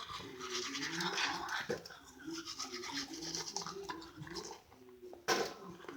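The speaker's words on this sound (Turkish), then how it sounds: "Böyle diş fırçamı yıkıyorum." A toothbrush is rinsed under a running bathroom tap, with close, continuous water splashing and brief scrubbing rustles, and a voice talks softly over it.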